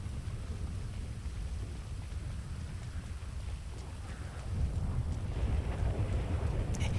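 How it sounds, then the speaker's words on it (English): Steady rain in a GTA roleplay game world fills the scene with a constant hiss and patter, growing slightly heavier partway through, with no one talking over it. "Fucking rain."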